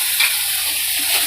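Chili powder being sautéed in oil for a fish curry, a steady hissing sizzle of the pan close up, continuous and alone without voices.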